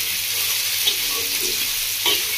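Potato and tomato sizzle and fry in a pan for a Bengali village-style bata fish curry, with steady sizzling, a few soft stirring scrapes and no talk.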